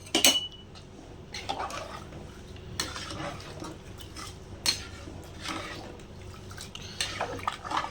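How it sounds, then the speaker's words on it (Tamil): A metal spoon stirs rice and lentils in a cooking pot for a simple rice-and-dal dish, giving irregular close scrapes and clinks against the pot with a few louder knocks and no talk. "இப்போ இது வந்து நல்லா போட்டதுக்கப்புறம் கிளறி விட்டுக்கலாம்"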